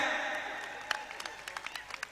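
Audience at a wrestling event clapping: scattered, light applause building into a few irregular claps, fairly faint and distant, after a stretch of background murmur.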